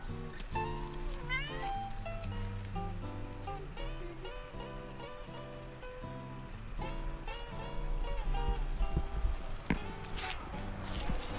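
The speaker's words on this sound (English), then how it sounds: "here's the infamous orange cat that greets everyone" An orange cat at the Mountain Crossings outfitter on the Appalachian Trail meows repeatedly, with several drawn-out calls heard over a steady, busy background.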